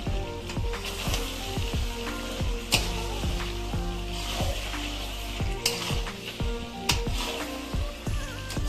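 Chicken cooks in a pan in a home kitchen, with a continuous sizzling fry under repeated scraping and stirring strokes and occasional metallic clinks of utensil on pan, close and fairly loud.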